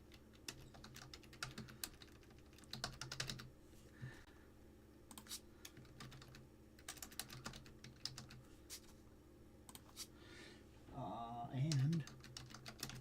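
Rapid clicking keystrokes on a computer keyboard come in irregular bursts for about thirteen seconds, close and fairly quiet, with a brief low voice or hum near the end.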